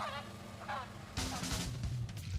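Geese honk repeatedly on a foie gras farm, a few scattered calls at first, then a louder, denser burst of overlapping honks from the flock nearby.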